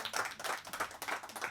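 Audience clapping at a Bollywood-style song launch event, heard as a brief, moderately loud patter of hands in quick, uneven rhythm with no talking.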